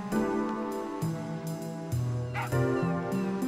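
A dog from the Final Fantasy VIII video game yips and whimpers repeatedly over steady, layered game music, the short barks bright and close.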